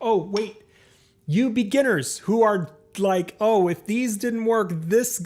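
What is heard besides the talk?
No everyday noises stand out.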